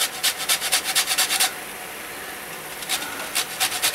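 An orange is rubbed quickly against a grater in short rhythmic rasping strokes, a run of about a dozen, a brief pause, then more strokes, close and crisp.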